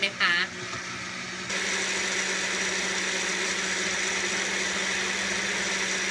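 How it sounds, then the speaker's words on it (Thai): An electric blender grinds ingredients for a Thai chicken rice sauce, switching on after a moment and then whirring at a steady, loud, high pitch, with a voice heard under the motor. "ปั่นไปเรื่อยๆนะคะให้ละเอียด"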